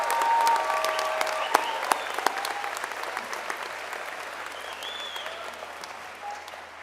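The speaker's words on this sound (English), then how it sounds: "let's give a round of applause to the spouses and children and parents and friends to thank them for their support" Commencement audience applauding families and supporters at a June 2024 university graduation; a broad, sustained wash of clapping from a large crowd, a few sharper claps standing out before it slowly fades.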